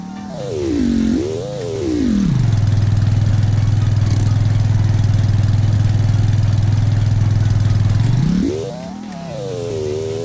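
Eleganza car fitted with big wheels in the Roblox game A Dusty Trip, its engine revving up twice, then holding a loud steady drone for several seconds before dropping off and rising again, close and alone.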